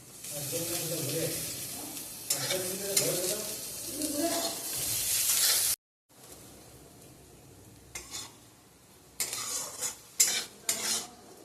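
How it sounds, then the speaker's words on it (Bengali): Cashews and raisins frying in a pan over fried potato: a hissing sizzle with spatula stirring and scraping, then a brief pause before sparser, clattering stirs. "এবার এতে আমি দিয়ে দেবো কাজু ও কিশমিশ।"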